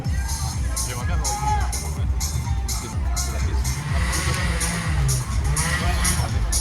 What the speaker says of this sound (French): j'attends, pas les applaudissements, mais une ovation du public français quand il arrive en haut